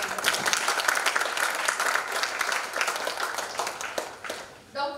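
Audience applause fills a college annual day ceremony, steady and dense clapping from a large crowd that holds for several seconds, tapering at the end as a voice begins to speak.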